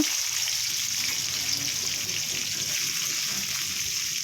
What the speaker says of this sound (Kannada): ಜೀರಿಗೆ ಸಾಸಿವೆ ಎಲ್ಲ ಹಾಕಿ ಫ್ರೈ ಮಾಡ್ಕೊಳ್ಳೋಣ